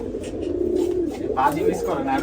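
Rajshahi Giribaz pigeons, a colour-matched flock, coo in low repeated murmurs under steady nearby talk.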